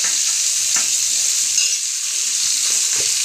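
Chopped onions frying in a pan, a loud steady hiss of sizzling oil close up with a few light stirring knocks, no voices.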